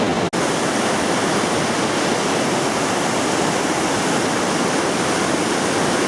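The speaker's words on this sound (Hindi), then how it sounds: "पहाड़ों से ये बह के पानी आ रहा है, दरियाए काबुल।" Kabul River water rushing down from the mountains in the Kalash Valley, Pakistan: a loud, steady, broadband roar of flowing water, unbroken and close, with no voices.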